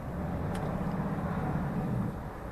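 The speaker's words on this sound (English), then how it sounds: "you can hear the engine." A heavy vehicle's engine runs with the exhaust brake and foot brake applied, a low droning rumble that holds steady and eases slightly near the end, with one brief hiss early on.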